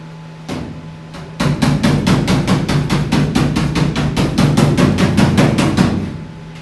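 A hammer taps rapidly and evenly, about twenty sharp metallic strikes in quick succession, upward along the lip of a squarebody Blazer's quarter panel during patch work. The strikes are close and loud over a faint steady hum.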